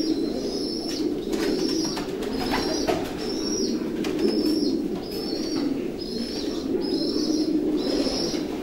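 Racing pigeons coo in a stud loft, repeated soft rolling calls at a steady rhythm over a constant low background hum, with occasional faint rustles and taps nearby.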